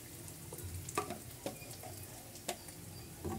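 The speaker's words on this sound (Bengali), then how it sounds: "দেখো এটা কি সুন্দর ভাজা হয়ে গেছে" Chicken bharta fries quietly in a pan, a soft steady sizzle punctuated by a few light taps and stirring clicks.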